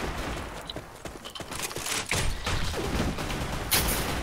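Bursts of rapid gunfire crackle from a game, with sharp shots and mechanical clicks layered over constant background noise.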